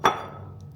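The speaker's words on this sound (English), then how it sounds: "She used to crack it like this." A raw egg is cracked once against a hard edge in a home kitchen while baking, a single sharp close knock that fades quickly into a quiet room.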